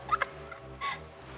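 A turkey-style gobbling sound effect plays on a livestream, a couple of quick warbling gobbles followed by a longer one, fairly clear against a quiet steady background hum.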